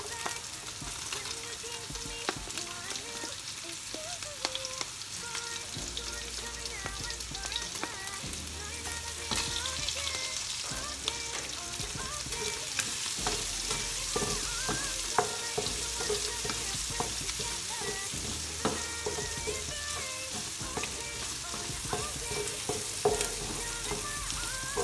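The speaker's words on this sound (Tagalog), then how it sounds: "So igigisa ko yung bawang tsaka sibuyas." Garlic and onion sauté in hot oil in a pan, sizzling and crackling steadily and loudly up close, with occasional stirring clatter throughout and no talking.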